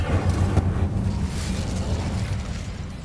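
An Incendio fire spell erupts in Hogwarts Legacy, a roaring whooshing blast of flame with a low rumbling body that swells and then slowly fades over about three seconds.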